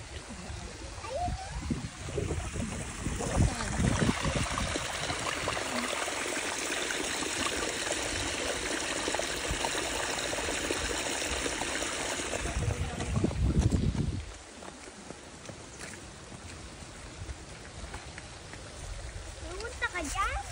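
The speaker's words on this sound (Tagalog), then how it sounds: "Doon pumupunta yung tubig, oh." A stream flows and trickles with a steady broadband rush, with some splashing and close handling noises, and the flow briefly louder near the end.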